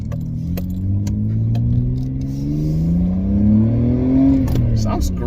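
A non-turbo Nissan Skyline R32 GTS engine drones and rises steadily under acceleration, a smooth climbing tone with some rattles close by, while a person speaks faintly.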